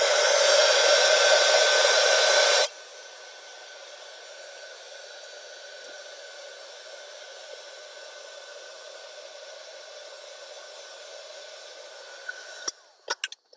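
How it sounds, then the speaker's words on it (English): A heat gun blows steadily at close range while drying texture paste on a mixed media journal page. The strong whooshing hiss lasts about two and a half seconds and then cuts off abruptly, leaving quiet room hum and a few faint clicks. "I'm going to hit this with the heat gun,"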